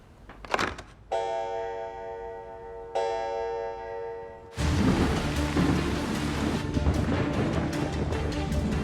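Thunder rolls in a thunderstorm as a dramatic effect. It begins as a sudden broad, heavy rumble that continues to the end, and two long tonal buzzing tones are heard before it.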